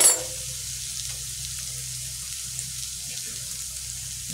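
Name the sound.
masala spice paste frying in oil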